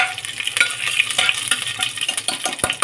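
Onions and green chillies fry and are stirred in a pan for mint rice, a steady close sizzle with scraping stir strokes throughout and a sharp clink near the end.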